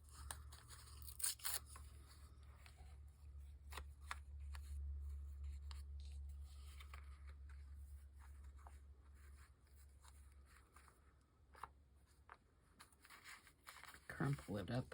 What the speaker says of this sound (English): Get a piece of the deli paper out of my scrap bin.